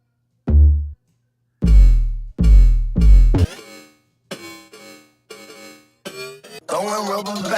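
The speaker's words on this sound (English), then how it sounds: "it added this really weird metallic-y crunch that I've never heard before" An EDM 808 bass layered with grain delay hits in a run of booming, decaying notes, then turns into shorter, brighter bursts with a strange metallic crunch, ending in a buzzing sustained tone.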